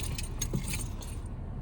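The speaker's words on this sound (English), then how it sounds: "And I've got the spare key here as well" Spare keys and a remote for a 2015 Toyota Corolla sedan jangle briefly and close by, a few light metallic chinks in quiet surroundings.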